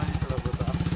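A motorcycle idles close by, with a rapid, regular engine pulse throbbing steadily throughout.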